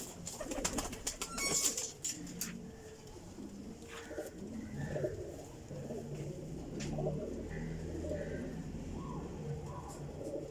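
Pigeons coo softly nearby in a low, rolling rhythm, with people talking in the background and a few sharp rustles early on.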